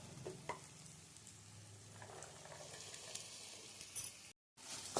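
Jackfruit seeds and grated coconut are stirred into a simmering masala gravy in a pan, giving faint, steady sizzling with soft scraping and a light clink near the end, with no talking.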